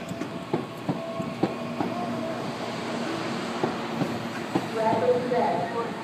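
A Series 1700 commuter train moves through Francisco Morato station, its wheels giving steady clickety-clack rail rumble with intermittent clunks and squeals, fairly close, while people talk nearby.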